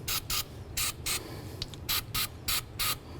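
Copper anti-seize sprayed from an aerosol can onto the splined end of a front axle on a 2008-2012 Jeep Liberty, seven short rhythmic hissing bursts separated by brief pauses, close and clear over faint garage background noise.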